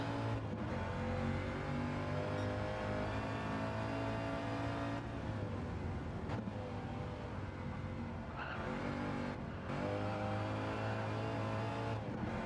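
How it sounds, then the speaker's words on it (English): GTO race cars at Goodwood accelerate hard out of a corner, a loud continuous engine roar with layered harmonics rising in pitch, brief dips between gearshifts, and several cars audible close together. "Listening to the throttle out of the corner."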